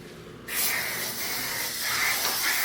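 Disinfectant spray hisses in a hotel room on a New Orleans trip, a steady close aerosol spray starting after a quiet moment and continuing for a couple of seconds.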